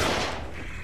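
Gunfire in the survival horror video game The Evil Within, a dense burst of shots that opens loud and then tapers into a rough, crackling decay, with no talking over it.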